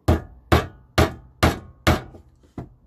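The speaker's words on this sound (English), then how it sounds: "with our hammer, put it on the mark, and just gently tap them in." A hammer taps nails partway into a wooden board for a simple key rack, six sharp evenly spaced knocks about half a second apart, the last one lighter, close and clear with nothing else behind them.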